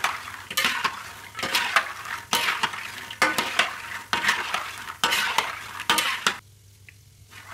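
Round krupuk atom crackers frying in oil are stirred in repeated scraping strokes, each sweep bringing a burst of sizzle and a metal clink before quieter frying, ending in a softer hiss.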